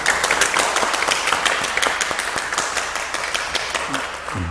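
A church congregation at a Korean Sunday worship service breaks into warm applause, a dense, lively burst of many hands clapping that fills the room and then tapers slightly.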